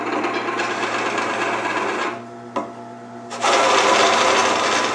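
A wood lathe turning a table leg with a hand tool cutting the wood, giving a steady scraping, rasping whir up close. It drops to the quieter motor hum with a brief knock, then the cutting resumes louder.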